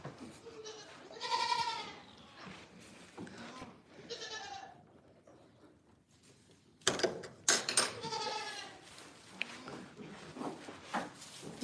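Several goats bleating in a farm pen, loud close calls with harmonic wavering tones, in bursts separated by quieter stretches, with some shuffling and a voice speaking softly at times.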